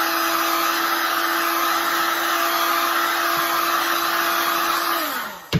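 A hair dryer blows steadily on freshly spray-painted fabric, its loud, even whirring drone holding close for about five seconds before it switches off and winds down, ending with a brief click.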